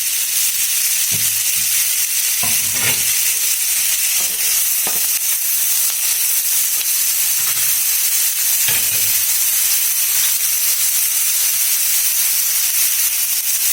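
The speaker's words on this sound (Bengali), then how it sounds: "তেলটা গরম হয়ে গেছে, এর মধ্যে আবার গোবিটা ভালো করে ছেঁকে নেবে, কষে নেবে।" Steamed cauliflower sizzles loudly in hot oil, a dense continuous hiss with occasional soft spatula scrapes and stirring knocks, close and steady throughout.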